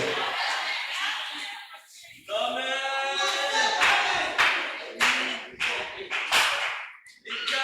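A church congregation at a Tuesday worship service bursts into applause in several surges, with sharp claps and cheering voices, loud and close, fading between waves.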